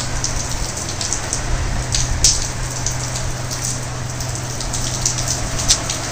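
Steady rain falls during the monsoon season in Bilaspur, a continuous close hiss with scattered sharper drop hits over a constant low hum, no voices.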